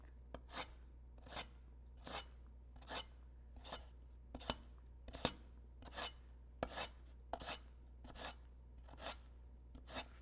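A knife slices through food in a home kitchen, making about a dozen close, crisp cuts at an even, unhurried rhythm against a low steady hum, with no talking.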